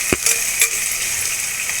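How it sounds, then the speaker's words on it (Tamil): Onions sautéing in a pan for a half-kilo chicken curry, a steady broadband sizzle with a few soft spoon scrapes and taps against the pan, close and unbroken, no voices. "இது நல்லா வதங்கட்டும்."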